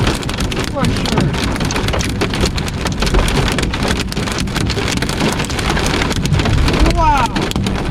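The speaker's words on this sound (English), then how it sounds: "Big time hailstorm. Oh man, these are the biggest I've been so far." Large hailstones pelt down during a heavy Iowa hailstorm, a loud dense rattling clatter on surfaces mixed with wind buffeting the microphone, continuous throughout with voices now and then.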